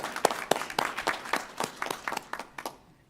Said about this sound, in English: you all deserve a round of applause as well